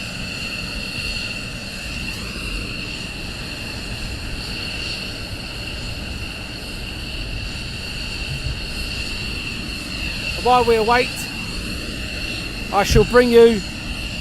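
A jet aircraft taxies at RAF Lakenheath, its steady whining engine tone holding throughout under occasional talk, with brief louder swells near the end.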